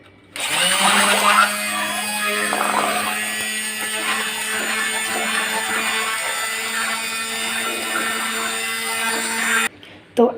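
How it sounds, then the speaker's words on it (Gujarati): An electric blender whirring steadily at high speed while mixing white papdi gathiya batter, a loud continuous motor drone that stops abruptly near the end. "તે મિશ્રણમાં આપણે બ્લેન્ડરનો ઉપયોગ કરી લઈશું"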